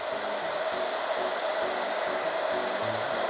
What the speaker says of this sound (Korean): 드라이기 소리에 적응하는 교육이 시작됐는데요